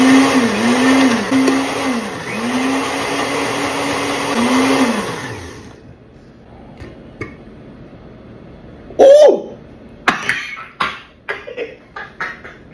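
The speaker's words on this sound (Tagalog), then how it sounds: "Teka lang, blender mo natin." A blender whirs loudly for about five seconds, its motor pitch dipping and recovering in rhythmic cycles before it stops, followed by quieter clatter and a few sharp knocks.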